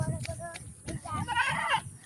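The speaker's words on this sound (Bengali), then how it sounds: "দেখেন আর একটা ছাগল।" Goats on a village outing, with a short bleat near the end heard under close, ongoing speech in a quiet outdoor setting.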